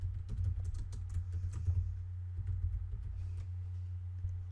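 Rapid keystrokes on a computer keyboard while entering a shop name, a steady run of close clicks over a low constant hum.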